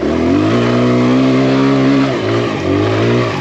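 A Kawasaki KLX140RF dirt bike revs hard while climbing a ledge at a dirt bike park. The engine is loud and close, surging up, dipping briefly, then climbing again.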